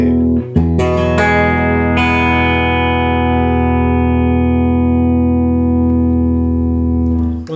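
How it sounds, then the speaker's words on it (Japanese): A clean electric guitar chord run through an MXR Dyna Comp compressor, struck a few times early then ringing out with long, even, compressed sustain for several seconds, alone and close. "このサスティーンを伸ばすためにコンプレッションをかけることもあります"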